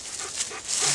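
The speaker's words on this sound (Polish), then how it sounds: "Bardzo łagodny pies." A gentle dog gives soft whimpers and panting breaths, close but fairly quiet, in short uneven bursts with no one talking over it.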